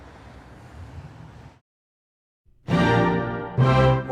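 Four French horns with orchestra open a flashy fanfare: a low rumble fades to silence, then two strong, loud brass-led chords burst in, each sustained and full, with no talking.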